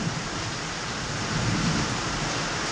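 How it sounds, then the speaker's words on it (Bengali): Steady rain falls outside during a thunderstorm with lightning, an even, continuous hiss at moderate level with no distinct thunderclap standing out. "বৃষ্টি তো হচ্ছে হচ্ছে তার সঙ্গে বিদ্যুৎ চমকাচ্ছে"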